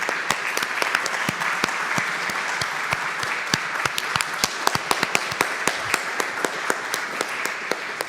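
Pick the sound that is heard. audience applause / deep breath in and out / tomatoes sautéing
audience applause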